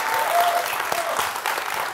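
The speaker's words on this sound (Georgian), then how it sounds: "აპლოდისმენტები ამ სიტარამეს." A studio audience at a comedy game show breaks into brisk applause, dense clapping from many hands that holds steady for a couple of seconds.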